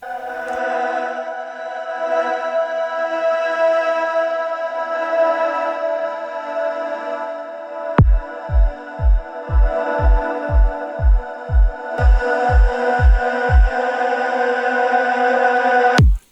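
A plain, unprocessed synth pad sample rings steadily, with a regular run of deep kick thumps entering partway through and stopping near the end.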